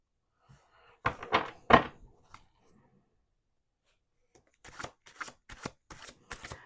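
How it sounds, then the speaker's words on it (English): Tarot cards being shuffled at a table, in two bursts of riffling and flicking: a louder cluster early on, then a quieter run of several quick slaps and rustles after a pause, close by with no talking. "We're going to do 2 more shuffles."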